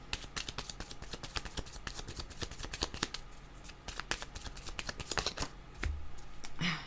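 Playing cards are shuffled by hand for a card reading, giving a fast, continuous flutter of crisp riffles and snaps close up, with a few louder slaps near the end and no speech.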